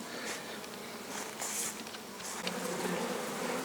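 Honey bees buzzing at the hive, a dense, continuous hum of many insects at fairly low level, with a few passing bees briefly louder.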